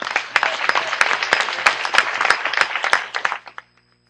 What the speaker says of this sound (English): all deserve a resounding round of applause